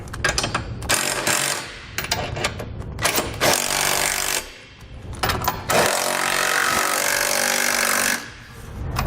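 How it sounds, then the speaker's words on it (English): Bolts being snugged down on a trailer hitch receiver under a 2014 Toyota Sienna, loud close bursts of rapid ratcheting or power-tool rattling in several runs separated by short pauses. "With all of our hardware in place, we can go ahead and snug them all down."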